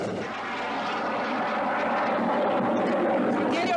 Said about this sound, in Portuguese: Os aviões ingleses chegam muito perto.